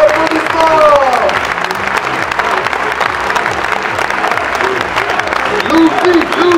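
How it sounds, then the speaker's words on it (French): A crowd applauds at the Stunfest 2013 Super Street Fighter tournament finals, a dense steady roar of clapping filling the hall throughout, with an announcer's amplified voice and cheers mixed in. "Mesdames et messieurs, un premier applaudissement."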